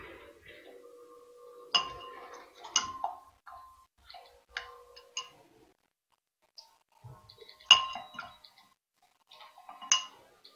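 Soap base being stirred in a container gives sparse clinks and ticks of a utensil against the sides, in short irregular bursts with quiet gaps between them.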